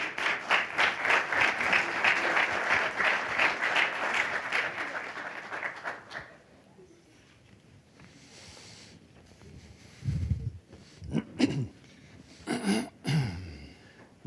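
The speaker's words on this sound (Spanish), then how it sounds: "Recibámosle con un aplauso, por favor." An audience at a health-initiative conference session claps in dense, steady applause for several seconds, then fades to a quiet room with a few scattered knocks and shuffles.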